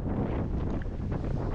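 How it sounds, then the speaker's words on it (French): Strong wind buffets an outdoor microphone, producing a loud, steady, rumbling roar that fills the whole moment without a break. "Le vent souffle fort"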